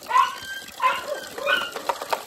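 Dogs and puppies bark and yip in short, close bursts, several sharp calls spaced across the moment with small whimpering yelps in between, fairly loud against a quiet background.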